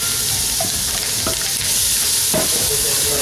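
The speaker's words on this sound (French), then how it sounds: "je vais ajouter toute la garniture en une fois" Chopped vegetables hit a hot dark roux for chicken and sausage gumbo and sizzle loudly and steadily, with stirring scrapes through the sizzle, close up.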